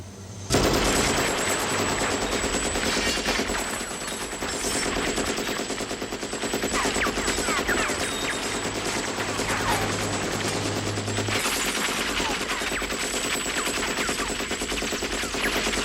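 Heavy film-set gunfire with bullet-hit effects on the set of a Stallone Rambo production, a dense, loud, continuous fusillade of machine-gun bursts and rapid impacts that runs for the whole stretch with no break.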